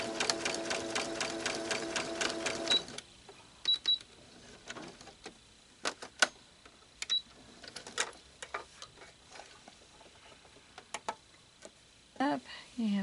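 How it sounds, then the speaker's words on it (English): Sewing machine stitching fabric down a marked line for a large grandmother's garden quilt: a fast, steady mechanical chatter for about three seconds, then sparse clicks and taps while a voice talks. "we put the foot over where the pin is, on the line, and sew down the line"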